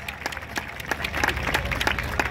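A crowd at a kusti wrestling match in Mundhawa, Pune claps steadily, with dense rapid handclaps and crowd noise filling the air throughout, loud and sustained.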